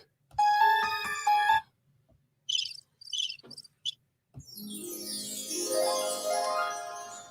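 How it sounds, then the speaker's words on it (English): Preloaded sound effects play from a Rodecaster Pro mixer: a bright run of electronic tones, then short chirping bursts, then a long swelling sweep of layered synthetic sound, with no one speaking. "This is a brand new Rodecaster Pro out of the box. I guess they're preloaded sound effects."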